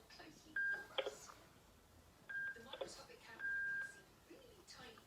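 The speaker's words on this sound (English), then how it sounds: "You keep touching the handset." A child presses buttons on a phone handset, producing a few short electronic beeps and tones spaced irregularly, faint against a quiet background with soft voices and rustling.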